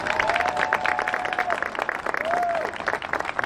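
A standing audience at a school district Teacher of the Year ceremony gives sustained, lively applause with crowd murmur and a couple of rising whistles cutting through the dense clapping.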